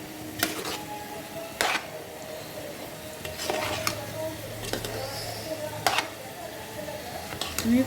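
Spoon stirring vegetables into cooked rice in a pot for veg pulao, with scraping clinks against the pan and a soft sizzle underneath, several sharp taps spaced irregularly.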